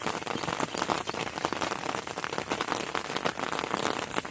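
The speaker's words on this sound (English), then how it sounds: "We'll have to check it out when it gets a little bit not so rainy and storming." Steady rain pours during a storm in a dense, continuous hiss of drops hitting surfaces close by, with no voices.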